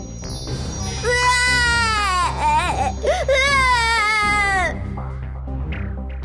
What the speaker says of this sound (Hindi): पालने में रखते ही बच्ची जोर जोर से रोने लगी